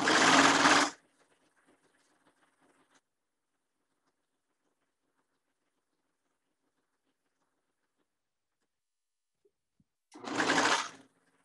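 A serger sewing machine serges the underarm seams of a boy's dress shirt in two short, loud whirring runs about ten seconds apart, with near silence and faint handling sounds between them.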